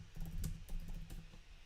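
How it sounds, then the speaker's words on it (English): Keys clack on a computer keyboard in quick, uneven clusters, close and moderately loud, with no voices. "I'm just typing stuff,"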